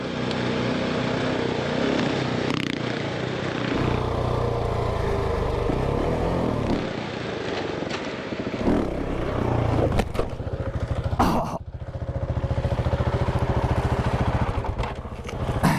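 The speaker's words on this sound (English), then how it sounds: "ahead with their bikes as we maneuvered over the rocky terrain with our bigger vehicles" Off-road vehicles and dirt bikes crawl over rocky terrain in Moab, Utah, on an overland trip. A continuous close engine rumble rises with revs, mixed with scrapes and clattering of rock and metal.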